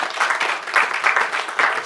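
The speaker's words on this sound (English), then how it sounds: "A round of applause for all of you." A brief burst of audience applause at the launch event of a mental health NGO, a dense clatter of hands swelling in waves, heard on its own.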